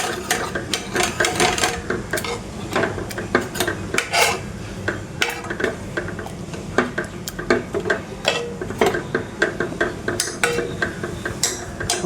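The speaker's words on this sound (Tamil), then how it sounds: "நல்லா பருப்பு தெரியாத மாதிரி மசிச்சுக்கலாம்" Repeated scraping and clinking of a utensil against a metal pot while mashing cooked lentils, a busy irregular rhythm of soft mashing and knocking, close up with no talking.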